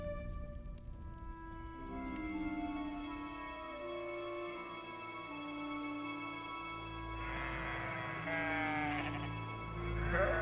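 Sheep bleat repeatedly in a quiet pastoral soundscape, several drawn-out wavering calls rising over a low sustained drone, with a louder cluster of bleats near the end.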